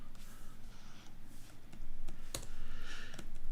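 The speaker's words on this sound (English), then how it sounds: "I don't want to be doing all this typing" Computer keyboard typing during a live coding session, a scattering of light key clicks, close and fairly quiet, over a steady background hum.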